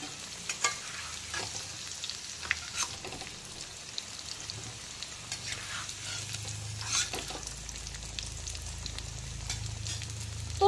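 Potatoes crackle and sizzle softly in hot oil as they are stirred and lifted out with a slotted spoon, with faint scraping and drips over a steady low frying hiss.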